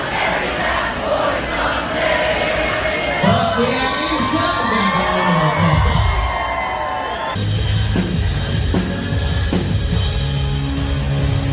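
Concert crowd at a live gig cheering and whooping loudly, a dense roar of voices with shouts rising and falling throughout.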